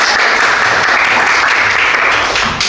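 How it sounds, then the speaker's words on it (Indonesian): Steady, dense applause from a crowd, loud and close, sustained throughout without a break. "terima kasih Mas Fadlan, kasih tepuk tangan dulu"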